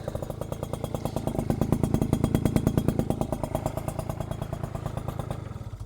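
Small Japanese scooter engine idling steadily, a fast even putter with a clattery, mechanical edge, close and fairly loud throughout with no speech.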